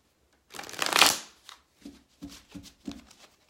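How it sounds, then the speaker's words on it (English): A quick riffle of tarot cards close by, then several short soft shuffling taps, with no voices. "So shuffling the Gilded Tarot deck"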